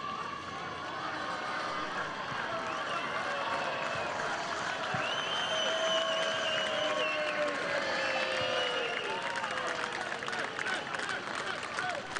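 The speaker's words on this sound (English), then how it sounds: "Applause for Dirk Kuyt as he comes walking along the sideline for the second half" Stadium crowd at a Wisla Krakow versus Liverpool football match applauding Dirk Kuyt as he walks the sideline for the second half, a steady, distant wash of clapping and crowd noise.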